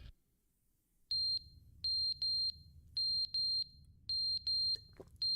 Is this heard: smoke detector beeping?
yes